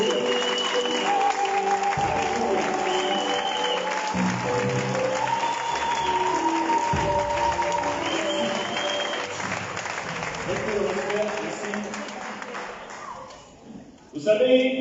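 A church congregation at the opening worship service of the Oyem 2025 campaign applauds in a sustained wash of clapping, mixed with music and voices, before the clapping fades out near the end.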